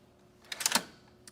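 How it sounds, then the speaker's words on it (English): A short run of quick key presses on the onboard keyboard of a Sharp MX 5070 series copier: a few soft, close clicks clustered in under half a second, then a single later tap. "these Sharp 71 series come standard with an onboard keyboard"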